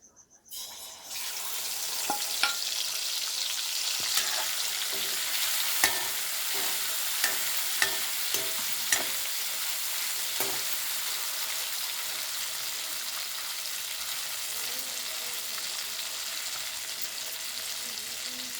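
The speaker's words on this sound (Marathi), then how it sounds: "मस्तपैकी गोल्डन होईपर्यंत तळून घ्यायचे थोडेसे." Eggs seasoned with turmeric, masala and salt sizzle steadily in hot oil in a pan, with a spoon tapping and stirring now and then, close and continuous without speech.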